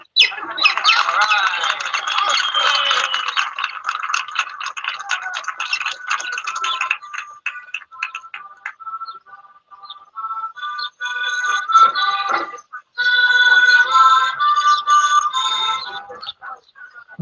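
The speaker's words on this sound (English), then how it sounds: "Fred and Ethel first, the turkeys." Close, loud squawking and chattering from turkeys, harsh repeated calls with brief pauses, then a second burst of raucous cries.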